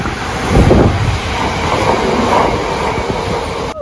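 A steam train rumbles steadily past, its heavy rolling clatter and rhythmic wheel noise continuous and fairly close, with wind in the background.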